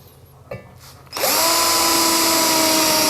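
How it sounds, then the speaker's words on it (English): A power drill with a dull bit drills steadily, its loud, sustained high whine kicking in abruptly after a second of quiet room sound and grinding on without a break. "Maybe this drill bit is a little dull."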